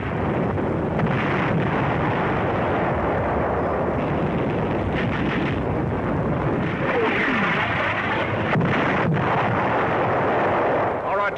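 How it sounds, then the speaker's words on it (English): US Army artillery firing during World War II fighting in North Africa, heavy booming blasts rolling over a constant roar of wind and film noise, with a narrator's voice faintly underneath. "Our artillery begins to find the range."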